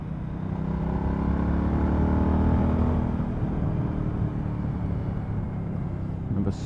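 A Suzuki V-Strom 1000 motorcycle rounding a roundabout, a steady close engine drone that swells and then eases off under heavy road and wind noise.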